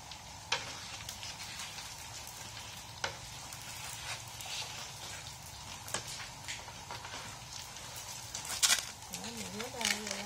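Rice paper crackers fry in hot oil with a steady, faint crackling sizzle and occasional pops, while a voice talks intermittently over the frying.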